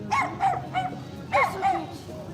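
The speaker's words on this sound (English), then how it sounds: "You see the little doggy?" A small dog barks at a beach, giving about five sharp, yappy barks in two quick bursts, close and fairly loud.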